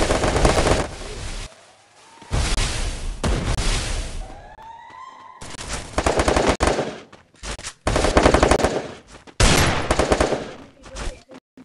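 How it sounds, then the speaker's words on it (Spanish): Bursts of automatic gunfire from a video game match, loud and close, with rapid machine-gun volleys broken by short pauses and a few quieter gaps across the clip. "Me dispararon."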